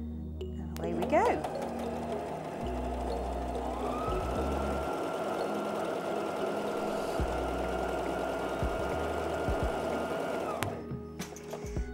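A mini sewing machine stitches through folded polyester fabric at a medium stitch length, its steady motor whir running nearly the whole time with a few pauses and restarts, while a person talks over it.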